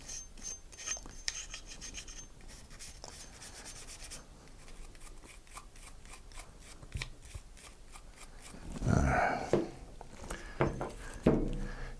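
Brush scrubbing SA-35 Hi-Power pistol parts during cleaning, a close, steady run of rapid rasping strokes, with a louder rougher scrub late on.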